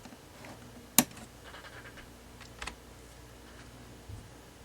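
A single sharp key press on a computer keyboard during an immobilizer reflash of a Toyota Sequoia, faint and isolated against a quiet room hum, followed by a couple of softer clicks.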